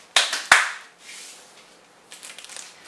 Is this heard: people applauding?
yes